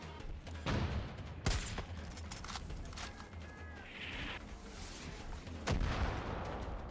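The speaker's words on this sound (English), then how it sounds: "What? A fucking mortar?" Mortar shells land in a video game, a few sharp, booming impacts spaced seconds apart over a busy bed of battle noise, with two loud hits standing out at the start and near the end.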